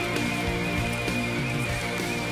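Hail falling outdoors during a bicycle tour, a dense steady patter of small hard impacts across the whole stretch with scattered sharper hits, loud and close, with no talk.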